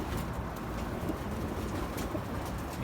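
A young racing pigeon entered in a derby coos softly through a thick, steady wash of background noise, with low repeated calls and no talk.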